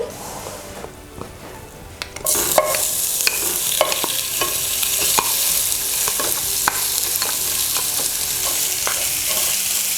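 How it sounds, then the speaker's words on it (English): Mutton pieces hitting hot oil in a pan for goat curry, bursting into a loud, bright sizzle after a quieter start, with scattered clinks and stirring scrapes over continuous frying. "Once the oil is heated, I'm going to add the mutton."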